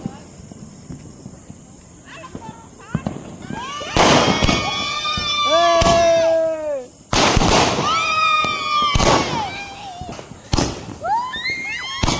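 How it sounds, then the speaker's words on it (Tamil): Bursts from a 30-shot Diwali firecracker, outdoors, sharp bangs and crackling pops in quick irregular clusters over several seconds, loud and close, with shouting and excited voices mixed in. "இப்போ நம்ம 30 ஷாட் வெடிக்க போறோம்"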